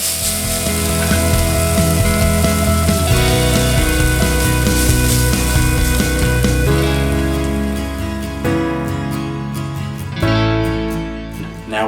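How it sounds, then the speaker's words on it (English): Loud, steady sizzling and crackling of pulled pork crisping in a frying pan, close up and continuous with faint background music. "put it in the frying pan and crisp it up nice and crispy"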